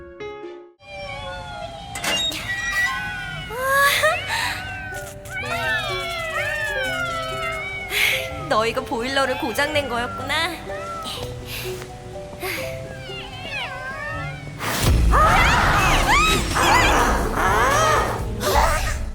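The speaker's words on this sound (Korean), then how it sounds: "탈출하던 신비와 둘이는 또 다른 고양이 소리를 어디선가 듣게 되는데" Cat-like meows and rising, wavering cries repeat over busy music and effects, with a voice speaking briefly; the sound becomes louder and noisier near the end.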